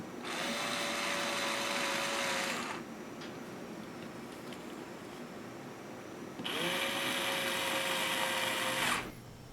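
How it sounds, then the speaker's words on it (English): Two bursts of a whirring electric torque sensing screwdriver driving soft-metal bolts on a Honda CB500 carburetor, each running a couple of seconds with a steady motor whine and a quiet pause between. "I use a torque sensing screwdriver on this model"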